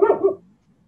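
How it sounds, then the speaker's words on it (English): A dreaming dog lets out a brief muffled woof-like vocalization, two quick close pulses that fade into silence. "I hear my dog dreaming."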